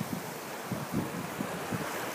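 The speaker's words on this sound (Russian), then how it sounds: "находимся на острове Кипр. Такой вот у нас здесь пляж." Sea waves washing onto Larnaca beach in Cyprus: steady surf hiss with soft periodic swells about every half second to second, mixed with wind noise on the microphone and no voices.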